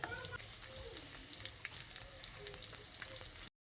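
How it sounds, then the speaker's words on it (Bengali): Papad frying in hot oil in a pan, with a continuous crackling sizzle and scattered bright pops, close and fairly quiet, the sound cutting off abruptly at the end. "আর এই পাঁপড়গুলো ভাজতে খুব বেশি সময় লাগবে না"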